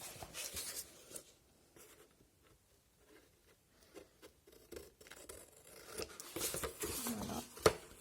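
A pencil traces a line across paper for a scrapbook album cover, making soft scratchy strokes that come and go in short bursts, quiet and close, with a few louder rustles toward the end.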